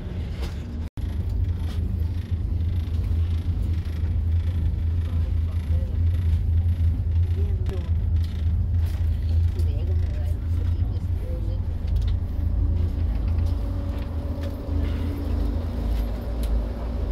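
A Flixbus coach from Leeds pulls up outside University College Birmingham in central Birmingham, its deep engine rumble steady and close throughout, with road noise around it.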